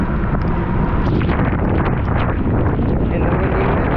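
Steady, loud wind buffets the microphone beside a boat at Haulover Inlet on the Miami River, a dense unbroken roar that holds for the whole stretch.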